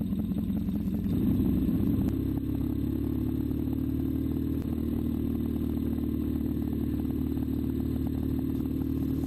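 A 1970 Triumph Bonneville motorcycle being ridden around a corner, its engine a steady, low, mid-level rumble with a brief rise near the start, heard continuously from the rider's position with road and wind noise.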